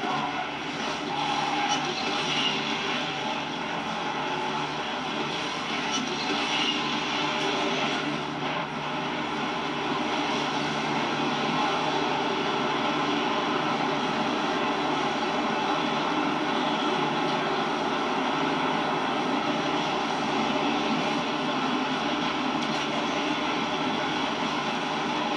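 Racing car engines roar and accelerate in the Asphalt 9 Legends racing game, a steady, dense, loud engine drone running continuously with no pauses.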